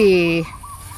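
A chicken lets out one drawn-out, squawking call that cuts off abruptly, followed by a faint, quieter cluck and low background noise.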